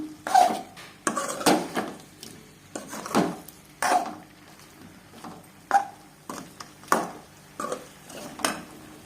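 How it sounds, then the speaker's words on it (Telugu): Repeated metallic scrapes and clanks of a spoon stirring a pot of chicken curry, about a dozen irregular strokes, close and fairly loud, with a lid clatter among them. "బాగా కలబెట్టుకున్న తర్వాత మూత పెట్టుకున్నాము."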